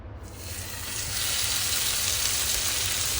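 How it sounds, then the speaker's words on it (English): A chuck roast goes into a hot oiled pan and bursts into a loud, steady sizzle that swells after a second and holds, close up and dense with crackle. "pan has heated up, so roast is going in."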